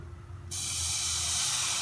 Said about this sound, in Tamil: இதில் லைட்டாக ஒரு 2 ஸ்பூன் தண்ணி ஊற்றிக்கோங்க